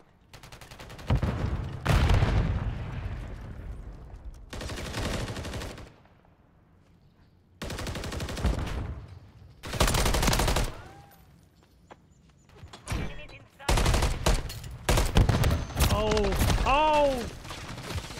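Gunfire in Call of Duty: Modern Warfare III ranked multiplayer, loud bursts of rapid automatic fire separated by short quiet gaps, with a few sharper single cracks toward the end.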